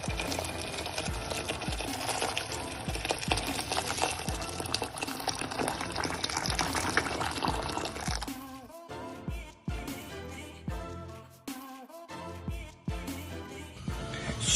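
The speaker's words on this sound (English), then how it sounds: "So, as you've just seen, I've just put my potatoes in the pan." Potatoes going into a pan of water while cooking a Balmoral chicken meal: dense liquid splashing and filling sounds at first, then quieter intermittent sloshes, knocks and clatter.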